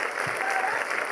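An audience at the 2013 FIFPL opening gala in Liège claps in a dense, even burst of applause, steady and moderately loud throughout.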